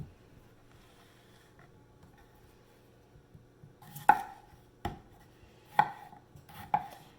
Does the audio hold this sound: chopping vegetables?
yes